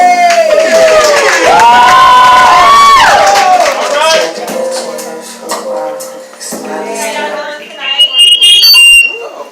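Audience at a live poetry show in Bronzeville cheering and clapping for a poet, a loud swelling crowd roar in the first few seconds that fades to scattered claps and voices, with a speaker talking over it.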